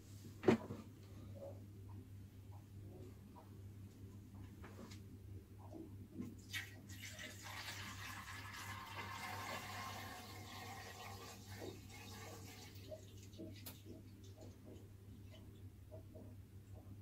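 Water is poured into the tank of a Black & Decker H3000 humidifier, a soft steady splashing and trickle that swells for several seconds, with a couple of sharp knocks and light handling sounds around it.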